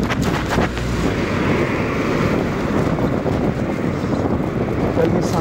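Strong wind gusting outdoors at night, a steady, loud broadband roar of wind buffeting the microphone throughout, with no clear pauses or other distinct sounds.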